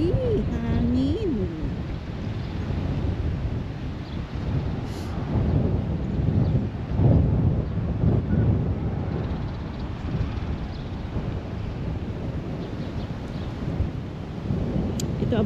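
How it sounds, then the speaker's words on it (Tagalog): Strong outdoor wind in New Zealand rumbles continuously against the microphone, a dense low roar that swells in the middle, with a faint voice briefly heard. "Hangin."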